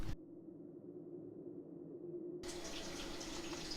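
A splash of water poured into a pan while making hard candy: a soft running, trickling pour that steadies and then broadens into a fuller wash of water noise, quiet and close.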